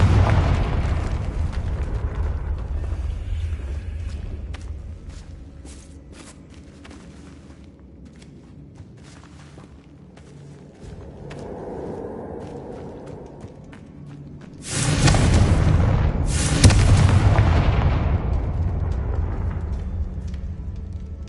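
A Confringo blasting spell explosion in Hogwarts Legacy, a sudden loud booming blast that erupts after a quieter stretch of ambient game sound, followed by a second burst and a sustained rumbling tail.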